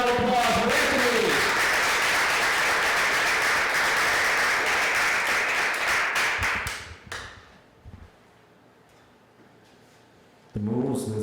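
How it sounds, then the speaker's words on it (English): An audience at a high school poetry awards ceremony in New York City claps in a loud, dense round of applause for about seven seconds, then it dies away into quiet room tone before a brief noise returns. "Let's give a warm round of applause for Anthony."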